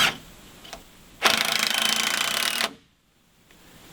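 A power driver running a screw into timber to join two wall frame pieces while building a workshop, one loud steady whir lasting about a second and a half, stopping abruptly, heard close up with no talking.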